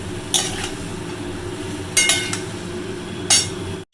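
Vegetables such as radish stirred in a pot with a metal spoon, three sharp clinks against the pot over a low steady cooking hiss, close by.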